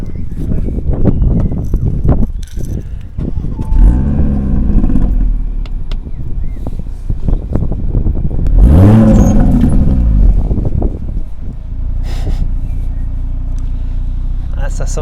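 Audi RSQ3 (2020) engine starting and revving, a loud throaty rise in the middle with rumble sustained throughout, while people talk over it.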